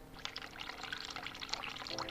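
Hot water pours steadily from a tap in the video game The Cat Lady, a hospital scene, as a continuous close splashing rush with no voices over it.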